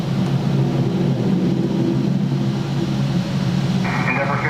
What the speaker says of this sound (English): Jazz 880 taking off. Embraer 175.